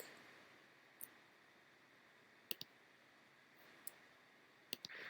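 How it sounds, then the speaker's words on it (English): A computer mouse is right-clicked during a software walkthrough: sharp, quiet clicks, some in quick pairs, are spaced irregularly over a faint hiss. "how about a right click?"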